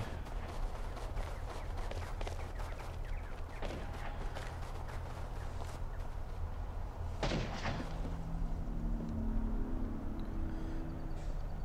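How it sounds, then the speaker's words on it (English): Gunfire crackles through a base raid in the video game Rust as rapid shots keep firing from a rock. Repeated sharp cracks sound at mid distance, with one louder blast near the middle, over a constant low rumble and no voices. "Dirt's men continue to provide covering fire from the rock"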